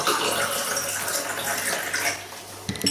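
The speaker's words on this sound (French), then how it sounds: "je vais en mettre un peu dans mon verre d'eau" Birch sap poured into a glass of water, a steady, close splashing trickle that lasts about three seconds and ends with a short clink.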